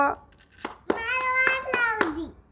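A few scattered hand claps ring out around the winner of a game of filling a glass with jowar grain, mixed with a loud, sustained voice calling nearby.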